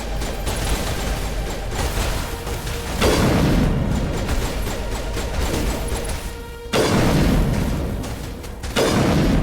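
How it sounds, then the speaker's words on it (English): Heavy explosions in the sci-fi shooter Mass Effect Legendary Edition, with loud booming blasts landing around 3, 6.7 and 8.8 seconds over a dense, continuous din of in-game combat. "I think there was a big explosion somewhere."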